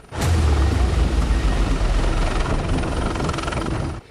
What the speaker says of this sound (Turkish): Tüm mürettebat helikopterle tahliye edilmeye başlandı.